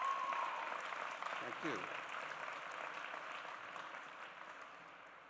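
Audience applause at a University of Michigan spring commencement ceremony, a broad wash of clapping that slowly fades while a speaker briefly talks over it.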